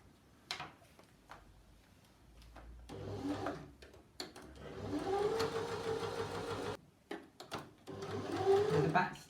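A sewing machine stitches dress pieces together for a maxi dress in bursts of varying length, the longest near the middle, close and moderately loud, with brief pauses and a few soft handling noises between runs.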